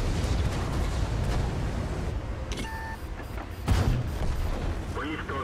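Heavy tank cannon fire in an armored combat video game, with the IS-2-II tank involved: a rumbling, noisy battle bed with one louder blast near the end and a brief electronic beep, while players talk over the action.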